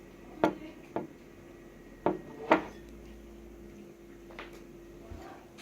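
Glue and water stirred together for slime give a few sharp, close clinks and knocks of a utensil against a container, spaced irregularly in an otherwise quiet room.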